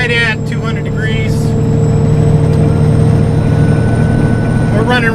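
Semi truck engine holding steady at 1500 RPM on Arizona's Highway 60 through the Salt River Canyon, a loud continuous low drone with steady road rumble throughout, with brief speech at the start and end.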